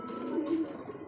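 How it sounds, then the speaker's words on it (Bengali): A pigeon coos in a short, low, soft call made of two murmured pulses, heard fairly close over quiet background. "যেগুলো কবুতর আসেন ইনশাল্লাহ সবাই ডাকে ভরপুর"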